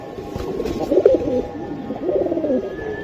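Pigeons at a bird seller's coo nearby in soft, repeated throaty phrases, with two clear bursts and faint background noise.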